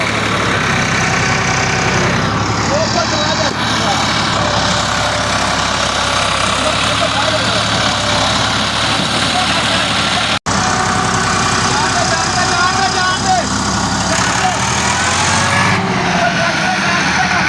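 A loud tractor engine drones and idles throughout, with a deep continuous rumble and some voices and crowd noise mixed underneath.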